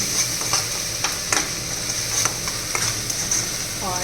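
Fish curry masala frying in a pan, a constant dense sizzle with regular scraping stirs of a spatula every half second or so, close and even.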